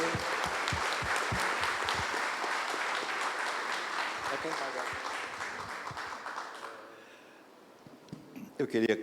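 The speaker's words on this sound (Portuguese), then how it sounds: "Vamos aplaudir o nosso Deus pela vida do nosso pastor." A church congregation at a Sunday service claps loudly and steadily for several seconds, with rapid overlapping hand claps and some cheering voices. The applause then fades out, and a few scattered claps follow.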